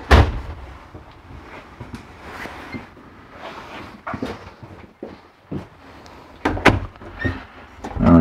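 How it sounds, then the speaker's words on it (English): A residential-style bedroom door in a 2017 Keystone Cougar 26SAB RV swings open with a latch click and a few thuds and knocks, close by and fairly loud, with no one talking. "And we come through the residential style door back here into the bedroom."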